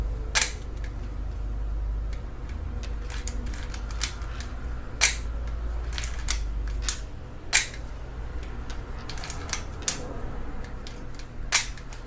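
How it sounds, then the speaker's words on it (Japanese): A Leica M3 rangefinder camera with single-stroke spring film advance is wound in short repeated strokes, producing soft ratcheting clicks between several sharp, loud shutter snaps spaced irregularly, close up in a quiet room. "しっかり巻かないとシャッター切れないですね。"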